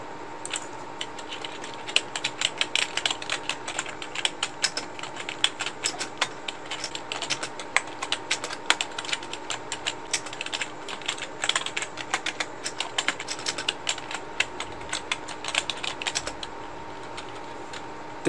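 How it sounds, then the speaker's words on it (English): Computer keyboard typing runs steadily for about eighteen seconds, a dense rapid patter of close, crisp key clicks with no voices, picked up through an AVerMedia Live Streamer CAM 313 webcam microphone. "Now let's hear how my keyboard sounds like."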